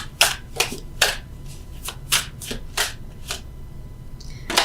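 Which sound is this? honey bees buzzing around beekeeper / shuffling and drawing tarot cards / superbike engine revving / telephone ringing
shuffling and drawing tarot cards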